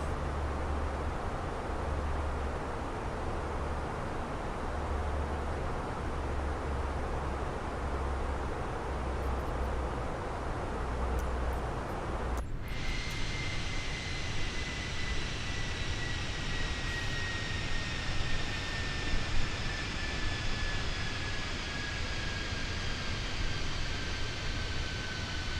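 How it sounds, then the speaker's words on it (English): Steady broadband drone of Halifax bomber piston engines heard from inside the aircraft during descent, loud and continuous, with the tone shifting partway through as the engines wind down and a high whine lingers. "you can hear those engines kind of winding down because we've begun our descent"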